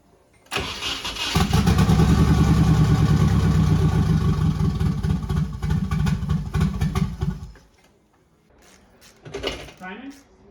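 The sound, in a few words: Nissan 240sx KA-T engine starting and idling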